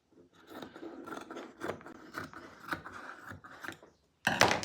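Scissors snipping along a fabric seam on an upcycled garment: a run of rhythmic scraping cuts, close and soft, ending in a short sharper burst of snipping after a brief pause.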